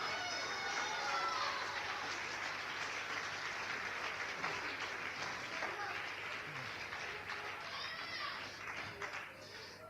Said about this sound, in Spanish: Dale el aplauso a Cristo, que Él se lo merece.